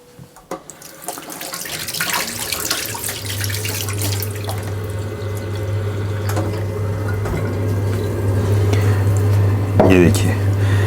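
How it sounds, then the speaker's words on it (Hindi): Water swishes and splashes steadily as it is stirred into a bowl of tomato seed puree, a continuous close wet churning that grows slightly louder toward the end. "इसके अंदर हमने पानी मिक्स कर दिया है"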